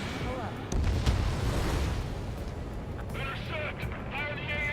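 Anti-aircraft guns in the combat flight game Ace Combat 7 pound out heavy, booming fire in a dense, continuous barrage, joined by a burst of radio-style voices in the latter half.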